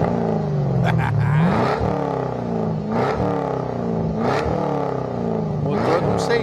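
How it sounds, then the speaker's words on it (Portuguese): A car engine of roughly 600 to 700 horsepower revs hard and loud up close, climbing in repeated surging pulls with brief drops between each rev. "Ah, ô Bruno, é mais fácil eu pegar a potência do ronco aqui na frente ou aqui atrás?"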